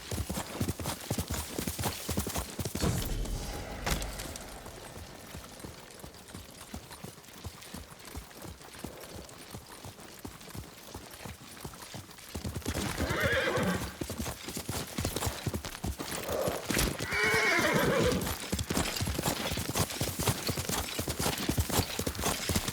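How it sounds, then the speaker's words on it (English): Horse hooves clop in a steady, continuous rhythm for a long stretch in the samurai video game Ghost of Tsushima, with a brief neigh or whinny rising near the middle over faint ambient sound. "Yuriko's horse. She can't be far."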